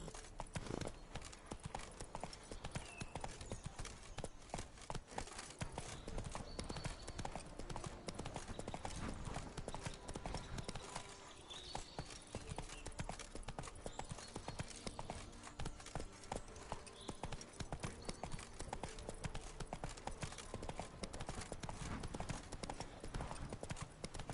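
Roach the horse trotting in The Witcher 3, hooves clip-clopping in a fast, continuous rhythm throughout, moderately close, with a brief faint voice.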